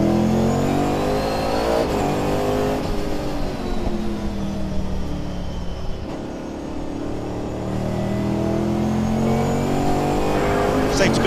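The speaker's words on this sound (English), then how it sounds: "Matt Selden plants his right foot, accelerates through on towards Paddock Hill Bend" BMW M3 GTR race cars accelerate at Brands Hatch in a wet GT Cup race, engines rising and falling in pitch as they pull away and pass, under continuous commentary.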